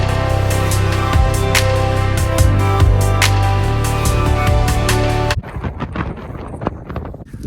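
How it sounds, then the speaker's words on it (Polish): Wind buffeting a microphone on a beach on Rhodes, a loud continuous roar that drops off suddenly partway through into gustier, patchier rushing. "jest silniejszy trochę wiatr"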